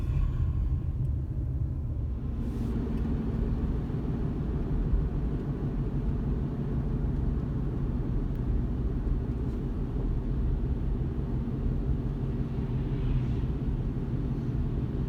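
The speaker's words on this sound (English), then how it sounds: "Now I can hear it, and I can feel it through the floorboards and the gas pedal and the steering wheel. It's like a pulsating noise." Inside a 2017 Chevrolet Colorado truck, a steady low drivetrain rumble drones continuously with a faint pulsing quality, heard alone without talk.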